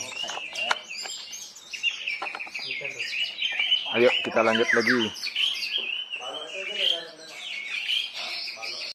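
An orange-headed thrush sings in bright, varied chirps and whistles close by, nearly continuous, while someone talks over it at times.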